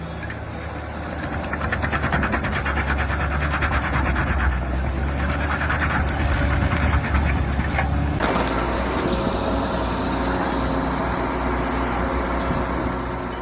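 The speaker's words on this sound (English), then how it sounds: "the LTD Stump Boss tears through massive tree stumps with incredible force" An LTD Stump Boss machine with a powerful cutting head grinds through massive tree stumps, a loud, rough engine roar with chattering, crunching wood noise throughout, shifting in tone partway through, close and continuous without speech.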